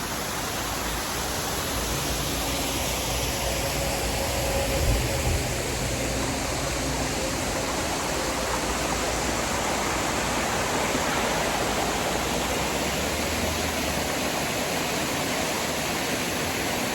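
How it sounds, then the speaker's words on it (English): Waterfall along the route to Goslar, a dense, steady broadband rush of falling water, loud and unbroken for the whole stretch with no voices. "look at this beautiful waterfall."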